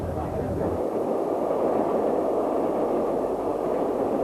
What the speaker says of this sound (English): Mallard is on one of its favourite steam runs, heading from York towards the east coast and the sea.